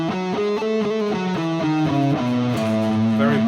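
A guitar plays a run of the Lydian mode, each note ringing clearly and stepping through the scale in an even rhythm, alone and fairly loud with no talking.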